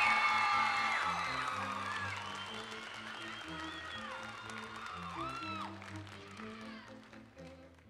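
An audience applauds, cheers and whoops for creed-speaking contestants at an FFA state leadership conference session. A steady wash of clapping fades slowly, with a loud voice and booming music underneath it.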